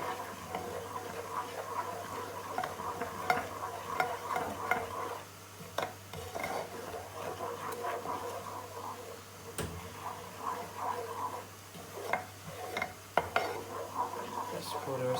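A spoon stirs a milk-based sauce in a pan, soft repeated scraping and clinks against the metal over a faint steady hum, quiet and close.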